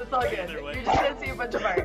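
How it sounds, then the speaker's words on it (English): Dog barking and yipping in short repeated bursts at the start, middle and end, heard under someone talking close by. "That's my dog."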